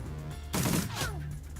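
A short burst of gunfire sounds in the video game Shadowrun Dragonfall, a dense crackling volley lasting about a third of a second over steady game background drone.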